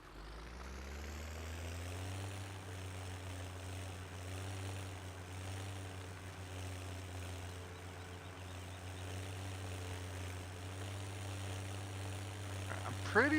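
A small tractor engine runs steadily with a baler attached in Farming Simulator 17, a continuous low drone that holds faint and even throughout, with a brief rattle at the very end.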